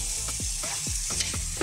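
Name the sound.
stirring meat with tomato sauce in a pan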